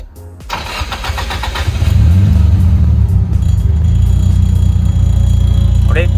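A Nissan Silvia S14 engine cranks and catches, then settles into a loud, steady rumbling idle close by. A voice is briefly heard over the engine near the end.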